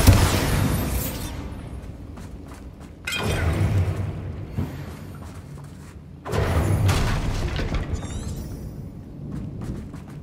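Spell blasts from the Bombarda blasting charm in the Hogwarts Legacy game burst out loudly at intervals, each impact followed by crumbling debris and a fading rumble. No one speaks.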